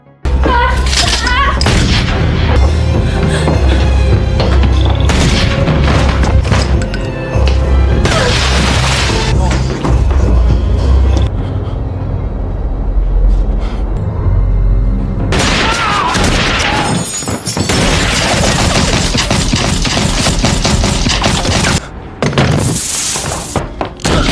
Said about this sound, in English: Without mercy, they shoot every member of Matilda's family, including her father, her stepmother, and her sister.